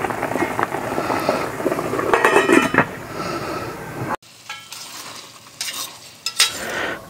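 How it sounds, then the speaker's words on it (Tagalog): A pork liempo and pineapple dish is stirred in a pan, with a busy scraping and sizzling clatter that is loud and close, then cuts abruptly to a quieter stretch of lighter stirring and clinks. "halo-haloin lamang po natin at nilagyan po natin siya ng white onion"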